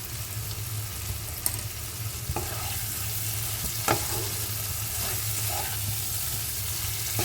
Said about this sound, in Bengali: নেড়ে চেড়ে মিশিয়ে নিতে হবে।